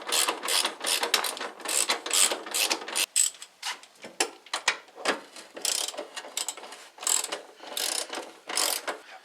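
A ratchet tightens the crossmember bolts on a Porsche 944 S2 during an engine mount replacement, giving rapid close clicking bursts in uneven runs with short pauses between strokes.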